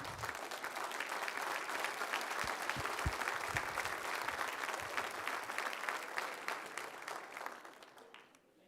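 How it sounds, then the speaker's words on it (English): Crowd applauding the candidates at a Randolph County 2022 GOP primary debate; sustained, dense clapping from a large audience, heard from a distance, tapering off at the end. "Let's have another round of applause for our candidates tonight."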